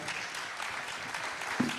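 Audience applause at a regional business summit, a steady wash of clapping from the room held at moderate level from start to finish, with no talk over it.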